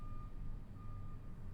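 A truck's reversing alarm beeps in the background, a thin steady tone pulsing through low rumbling room noise, with no talk.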